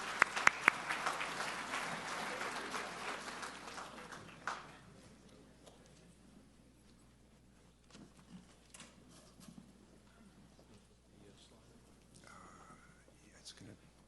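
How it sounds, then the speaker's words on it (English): An audience at a homeland security symposium applauds a panel, loud clapping at first that fades out after a few seconds into murmuring room noise. "give another round of applause to our panel."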